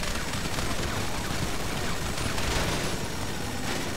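Rapid, continuous gunfire from the God Cop video game, a dense, loud barrage that keeps up unbroken for the whole stretch.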